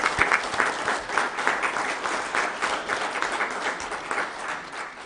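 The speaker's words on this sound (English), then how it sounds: "Please join me in a round of applause" A crowd at a Weber County meeting applauds, producing steady, dense clapping with some louder individual claps near the front, sustained for several seconds at moderate volume.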